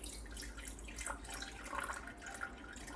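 Ocean water trickles and splashes softly as it is measured out for making soap, a faint continuous pouring with small drips over low background noise.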